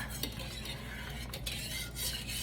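Half of six sticks of butter being stirred into lemon curd in a pot on the stove: close, steady scraping and clinking of a utensil against the pot with a soft low bubbling underneath.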